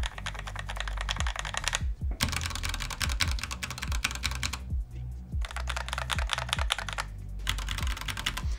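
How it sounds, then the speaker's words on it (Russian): Fast, steady typing on a Kirox studio mechanical keyboard fills the space with dense, crisp key clicks in continuous bursts, broken by a few brief pauses, close and clear with no talking. "У меня тут основная клавиатура на студии. Это Kirox."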